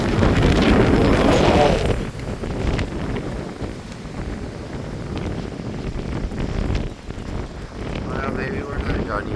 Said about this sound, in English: Maybe a little bit more wind.